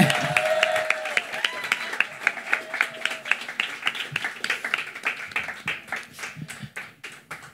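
An audience applauds for Coco Whelan at a memorial gathering, opening with dense clapping that thins into scattered, distinct individual claps before trailing off, close and fairly loud.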